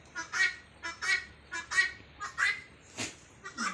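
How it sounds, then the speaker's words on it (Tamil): Chickens squawking repeatedly on a farm where goats are kept, a series of loud, harsh calls in quick bursts, close by and with no talking over them. "கோழி வேற கத்திக்கிட்டே இருக்கு."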